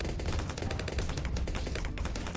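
Rapid, continuous gunfire from a sniper monkey in the tower defense game Bloons TD 6, a dense, loud burst of shots with bouncing bullets, with no talking.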